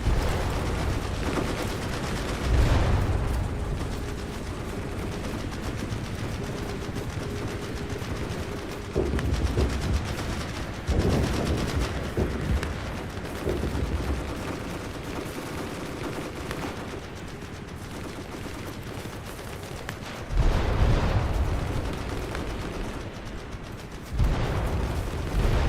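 A bombing run and gunfire in a video game: dense, continuous volleys of shots and heavy blasts that roll on for the whole stretch, with louder booming impacts at intervals and no talk.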